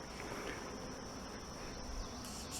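Honeybees flying in and out of the entrances of two busy garden hives, carrying nectar and pollen, make a steady, unbroken buzzing hum that stays even throughout, with no voices.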